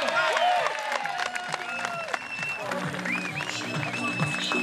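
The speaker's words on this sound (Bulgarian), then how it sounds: "Сега много аплодираме." Applause and cheering from an outdoor crowd for a strongman competitor on a difficult turn at a Balkan strongman event in Albena, Bulgaria, dense and sustained throughout, with music playing over it.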